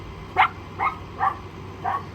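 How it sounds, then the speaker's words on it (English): A dog on a boat barks four times in a steady rhythm, short sharp yelps spaced about half a second apart, close by with no talking. "I'm just gonna let her bark, get it out of her system."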